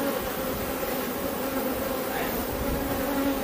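Honeybees buzz steadily over a brood frame of unborn bees during an artificial swarm split, a close, continuous hum with sustained drone tones and no talk.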